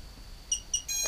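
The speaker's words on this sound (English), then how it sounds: "You get a single beep, you should get a single flash as well on the flight controller." A Betaflight flight controller on an FPV quadcopter gives a single short electronic beep, clear against a quiet background, followed by a brief burst of a louder tone.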